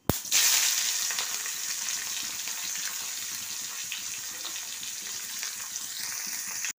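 Chopped onion hits hot oil already seasoned with garam masala, cinnamon and small cardamom in a kadai, setting off a loud, steady sizzle that carries on unbroken for several seconds.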